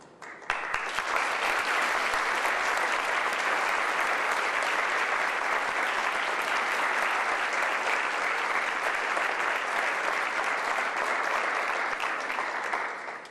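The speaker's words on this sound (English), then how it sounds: "Please, another round of applause." Sustained applause from an audience in a room at a State Department event, a dense, loud wash of clapping that carries steadily for about thirteen seconds before tapering at the end, with no speech over it.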